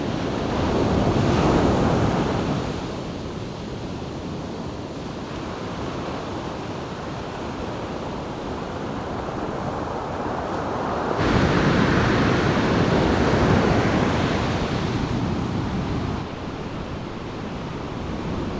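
Ocean waves and surf break along a steep, secluded stretch of California's Lost Coast beach, a steady roar with swells building louder around two and twelve seconds, mixed with wind buffeting the microphone.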